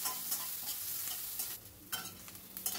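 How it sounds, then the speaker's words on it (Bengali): Chopped onions fry in spiced oil over a high gas flame while a utensil stirs them constantly, producing a steady close sizzle punctuated by scraping strokes. "পেঁয়াজটা দিয়ে এবার একটু নাড়াচাড়া করে নেব"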